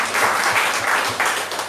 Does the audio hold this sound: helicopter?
no